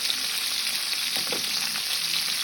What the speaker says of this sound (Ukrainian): На вечерю жарю м'ясо і варю бульйончик